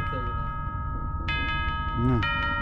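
A doorbell chimes twice in the VR horror game FNAF VR, bright ringing tones over a low game hum, with voices talking in the background.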